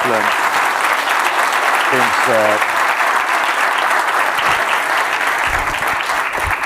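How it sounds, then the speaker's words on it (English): A morning symposium audience applauds an executive chef with sustained, loud clapping. Short bursts of voices cheer or call out over it, and the applause stays even throughout. "I just want you to give him a huge applause for the excellent things"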